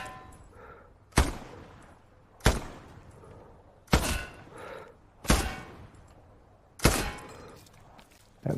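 Gunfire rings out in the Hell Let Loose video game as dummies are shot: six loud, heavy single shots spaced a little over a second apart, each with a booming tail, close and with no talking.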